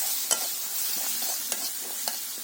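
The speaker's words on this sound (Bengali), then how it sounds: "সব রকমের মশলা তেলের মধ্যে দিয়ে এখন ভেজে নেব।" Spices frying in hot oil give a bright, continuous sizzle with a few sharp clicks from stirring, close and fairly quiet, and no one speaks.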